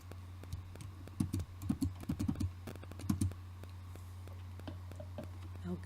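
Typing on a computer keyboard, a run of quick clustered key taps that comes in bursts and then tapers off, fairly close and quiet over a steady low hum.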